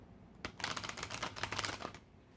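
Playing cards are shuffled for a tarot-style reading, giving a quick run of crisp riffling clicks and flutters that lasts under two seconds, close and moderately quiet with no talking.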